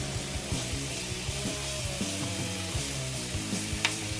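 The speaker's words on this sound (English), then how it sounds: "So our bacon's going in." Bacon sizzles steadily in a pan with spices, a dense crackling fry with small pops and the scrape of stirring throughout, close and with no talking.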